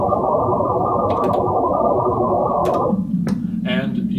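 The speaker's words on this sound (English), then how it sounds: "we start getting some very rich textures, even though these are just sine waves" Dense granular synthesis texture built from many short sine wave grains, a thick shimmering cloud that shifts in density, then thins out near the end while a voice begins talking over it.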